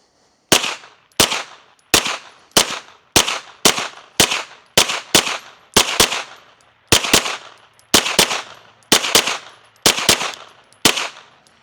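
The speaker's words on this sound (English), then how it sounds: "let's start off with the Ruger PC carbine. I got 20 rounds of those Fiocchi primers loaded up." Ruger PC carbine firing rounds loaded with Fiocchi primers: loud, close, sharp shots at a steady semi-automatic pace of roughly two per second, about twenty reports in a row, each with a short echoing tail.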